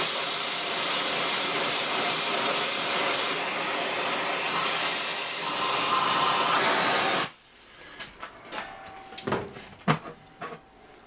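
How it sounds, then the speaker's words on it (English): Crack test cleaner burning off during plasma cutting on a steam waggon regulator part: a loud, steady broadband hiss for about seven seconds that cuts off abruptly, followed by faint scattered ticks and clicks. "That's the crack test cleaner that's burning off."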